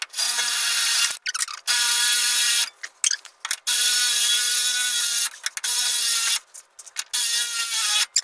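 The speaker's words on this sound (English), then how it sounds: "I'm gonna take that 2-inch drill bit and drill right through" A power drill with a 2-inch bit whines steadily in long bursts through metal while a hitch is fitted to a 1997 Ford Ranger, stopping and restarting several times with brief grinding and clanking between runs, close up.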